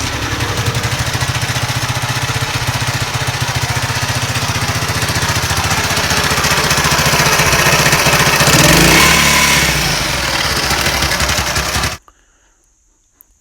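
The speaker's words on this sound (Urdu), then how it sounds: "انجن کی آواز آپ نے چیک کی" An old classic Honda US 100 motorcycle engine runs steadily before an overhaul, a loud close idle with a brief rev swell near the end, then cut off to silence.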